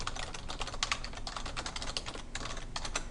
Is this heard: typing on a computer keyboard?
yes